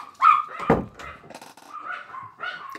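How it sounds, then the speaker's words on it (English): Two small yappy dogs bark in sharp, high-pitched bursts close by, a few quick yips and whimpery barks tumbling over each other. "we have two yap dogs"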